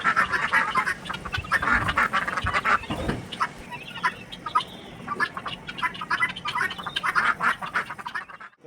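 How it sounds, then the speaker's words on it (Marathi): Ducks and guinea fowl call repeatedly on a farm in a busy, overlapping chorus of quacks and harsh cries, fairly close, with no talking. "आपण बदक आणि गिनी फाऊल ज्यांना बरेच लोक चिनी कोंबड्या म्हणतात ह्यासुद्धा सांभाळलेल्या आहेत"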